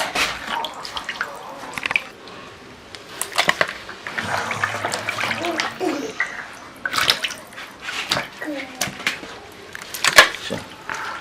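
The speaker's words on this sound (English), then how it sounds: "I am washing my meat now." Raw meat being washed by hand in water while cooking in a village, with irregular splashes, sloshing and drips at close range, louder bursts scattered throughout and no talking.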